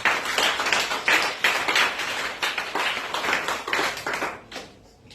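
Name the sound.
congregation applauding and cheering in church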